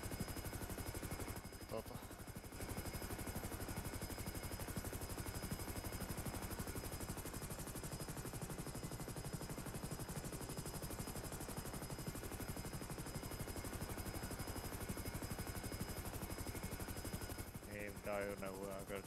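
A helicopter's rotor in the game FiveM drones steadily and evenly for the full length, with a brief burst of voices coming in near the end.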